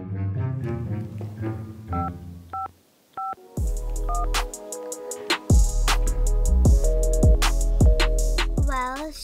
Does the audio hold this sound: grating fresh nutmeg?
no